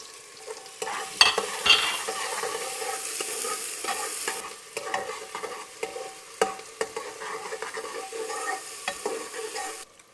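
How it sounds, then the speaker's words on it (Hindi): Onions sizzling and crackling as they fry in hot oil with a bay leaf and a black cardamom pod, steady close hiss with scattered pops and stirring scrapes, no voices. "और अब डाल देंगे इसमें प्याज।"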